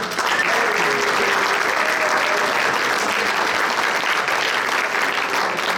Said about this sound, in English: Big round of applause for our numeral winners.